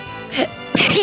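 A single close, loud sneeze in two bursts, a quick intake followed by the explosive release, with nothing else around it.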